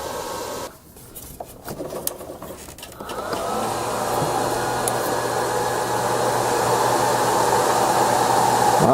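Cooling fans of cheap 12V/24V 41A power supplies spinning up: a steady, loud broadband whir with a low hum that starts partway through and holds constant to the end, no talking.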